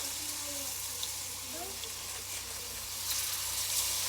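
Cube steaks laid into a pan of hot vegetable oil, a steady close hiss and sizzle throughout with faint crackle and no pauses, no one talking.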